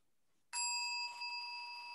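A meditation bell or gong struck once during a meditation session, with a sudden onset, a bright ringing tone and steady harmonic overtones that sustain and decay slowly, heard alone in a quiet room.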